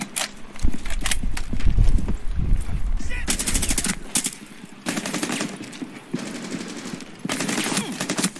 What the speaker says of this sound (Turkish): Kim vuruyor lan bana?